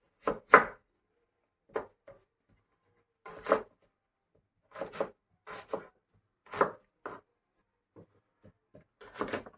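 A knife slicing white onions on a board for a meat marinade, heard as a dozen or so crisp, separate chops at an uneven pace, close and clear with silence between strokes.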